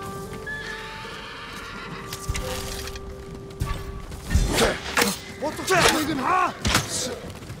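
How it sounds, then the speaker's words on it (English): Samurai horses at a stable in the video game Ghost of Tsushima whinny and snort close by, with shuffling hooves and thuds and a low ambient hum underneath, the neighs growing louder toward the end. "Let's get to the horses."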